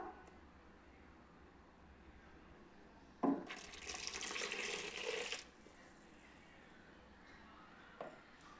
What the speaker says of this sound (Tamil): தேவையான அளவு தண்ணீர் சேர்த்துக்கோங்க.